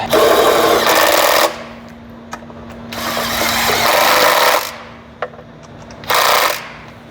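A small 1/4 inch impact wrench tightens a long transmission bolt during a 10R80 transmission service on a Ford F-150, rattling in three loud bursts with short pauses between them.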